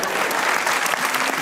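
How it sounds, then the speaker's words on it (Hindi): A studio audience at a Pakistani comedy talk show breaks into dense, even applause, many hands clapping loudly and continuously for the whole moment. "तालियां भाई ताबिश भाई।"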